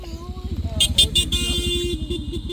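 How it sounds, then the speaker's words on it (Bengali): A motorcycle engine putters close by with rhythmic pulsing as it approaches, a few short horn toots sounding, while people talk over it. "এই মোটর সাইকেল আইতেছে চাপো"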